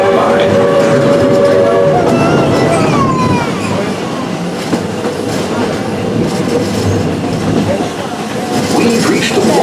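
The Walt Disney World Railroad train at Magic Kingdom rolls along the tracks with a steady clattering rumble, a horn sounding early on, loud and close throughout.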